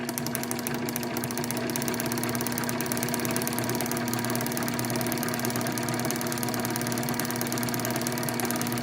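A John Deere magneto is spun faster on a test rig during a spark test, making a steady, fast mechanical whirring with rapid ticking pulses and a constant hum underneath, close and unbroken, with no voices.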